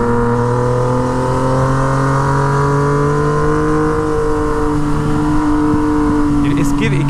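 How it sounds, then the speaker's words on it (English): Yamaha MT09 motorcycle fitted with a straight-pipe Toce exhaust, rolling on the throttle in a steady, loud engine drone with rising and falling pitch, alone and close throughout. "compared to the last MT09, even rolling on the throttle feels better"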